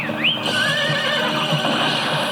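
A horse in the Bravestar cartoon whinnies with a long, rising and falling neigh over a dense soundtrack of music and effects, loud and close throughout.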